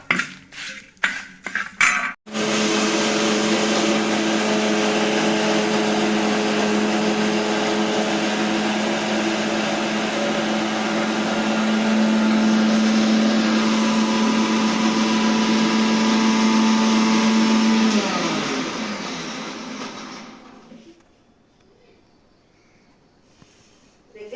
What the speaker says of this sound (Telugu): మిక్సీ సరిలేదానా ఇది సరిగా పడట్లా దీన్ని మళ్ళీ మిక్సీకి ఇంకోసారి మిక్సీ తిప్పేసి